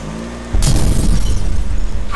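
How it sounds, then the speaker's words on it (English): A big fuel can explodes in a combat video game, a sudden loud low boom that starts about half a second in and rumbles on for the rest of the clip. "Do we get to see the explosion, or are we too cool to see the explosion?"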